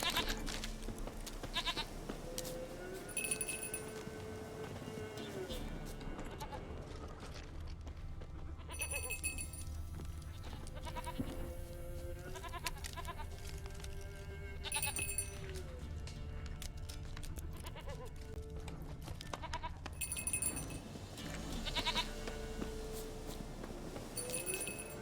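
Repeated goat bleats from The Witcher 3 recur every few seconds over continuous game ambience and music, with faint footsteps mixed in and no talking.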